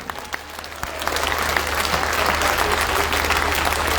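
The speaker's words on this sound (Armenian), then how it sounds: "Ծափահարություններ Գյումրիին։" Large outdoor political rally crowd in Gyumri, Armenia, breaking into dense applause that swells after a moment into a sustained, even roar of clapping hands.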